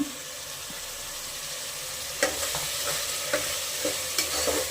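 Tomato fries in a pan with a steady, bright sizzle, and from the middle on a spoon scrapes through it in a regular rhythm of sharp strokes.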